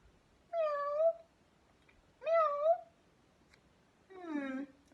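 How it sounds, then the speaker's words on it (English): A cat meows three times, each call clear and drawn out, with evenly spaced pauses and a quiet background in between. "Yes, it's a cat."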